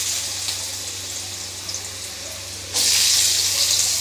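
Vegetables hitting hot refined oil in a wok: a gentle hiss that jumps to a louder, dense, close sizzle partway through and holds steady, with no talking.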